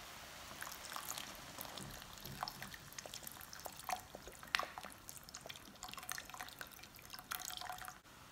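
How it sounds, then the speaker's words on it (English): Vinegar poured into spice water for Shanxi rolled noodle skins, a quiet trickling and dripping stream with small irregular splashes, close and soft, no talk. "Time to add in roughly the same amount of vinegar."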